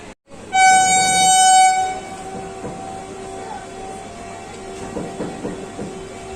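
The Ajmer Janshatabdi Express leaves Delhi Cantt station. A loud train horn blasts for about a second near the start, then the rumble of the moving train and its carriages carries on steadily.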